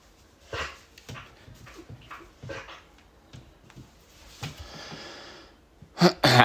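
A dog whimpers and snorts in short, soft bursts with breathy sniffs between them, close by, ending with a louder sharp snort.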